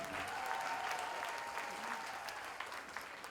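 An audience at a formal university ceremony in Ceará applauds Minister Camilo Santana with steady, dense clapping from a crowd, moderately distant and continuous throughout.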